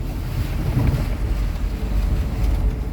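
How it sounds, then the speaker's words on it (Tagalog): Ferry boat crossing open sea with waves, a steady loud rumble of engine, wind and water washing against the hull throughout, with wind buffeting the microphone. "Parang mahina lang ata ang alon ngayon, no?"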